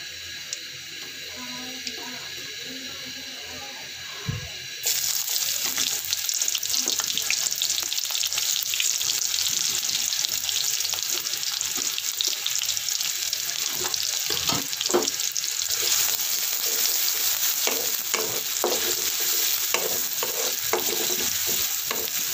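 Beans and green chillies dry-roasting in a pan: a quiet start gives way to a steady bright sizzle with scattered scraping stirs, running continuously with no voices over it.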